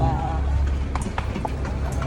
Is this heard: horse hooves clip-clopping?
yes